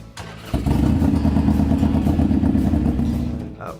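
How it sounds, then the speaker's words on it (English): A Harley-Davidson Fat Boy motorcycle engine catches and settles into a deep, loud, steady rumbling idle close by, with a thump at the start and no talking. "A Harley-Davidson motorcycle."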